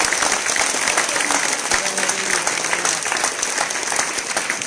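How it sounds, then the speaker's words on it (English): Warm, continuous audience clapping at a tech meetup on open security, thanking the speakers; a room full of hands claps steadily and fairly loudly, with a few scattered voices mixed in. "a big applause for everyone."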